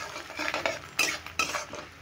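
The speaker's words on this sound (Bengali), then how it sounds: "এই চাল আর মুগের ডালটা ভালো করে একটু নেড়ে ভেজে নেব।" Gobindobhog rice and mung dal are stirred and dry-roasted in a pan, giving a close, dry scraping and rustle of grains with a few sharper clinks of the spoon against the metal.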